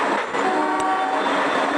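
Train arriving at Lalgarh station: a steady rolling rumble of rail cars with a brief horn-like tonal burst partway through, loud and close, with no voices.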